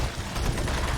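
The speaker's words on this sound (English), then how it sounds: "I like to use my machine gun on the trites" A machine gun fires a rapid, dense burst at trites in the Doom 3 caverns, the loud rattle running without pause for about a second.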